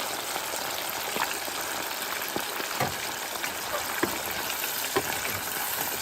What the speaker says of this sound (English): You don't need to fry these too long